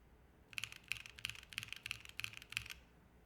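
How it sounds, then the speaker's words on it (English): Typing on a Mode Designs 65 mechanical keyboard at a minimalist desk: quick, close, crisp keystroke clicks in short clustered bursts separated by brief pauses, quiet and alone. "The keyboard I've been using is from Mode Designs. This is their new 65 model."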